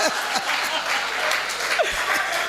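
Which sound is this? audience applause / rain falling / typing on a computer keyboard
audience applause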